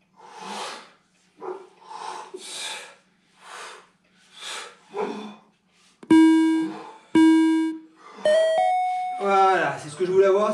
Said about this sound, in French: c'est ce que je voulais avoir, c'est cette petite sonnerie